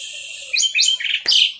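Orange-headed thrush singing up close, a short burst of bright rising and falling whistled phrases and chirps with a quick sharp note near the end, alone with no talk.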